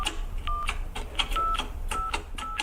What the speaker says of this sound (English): I love any report with a multitude of phone box sound effects in